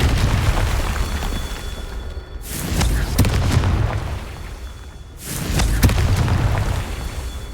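Two booming Confringo spell explosions from the video game Hogwarts Legacy burst out a few seconds apart, each a loud blast over a low, rumbling game ambience.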